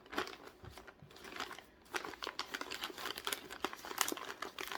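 Plastic packaging crinkles and rustles in quick, irregular bursts while a yarn and Woobles crochet kit is unboxed at close range; the sound is fairly soft and there is no speech.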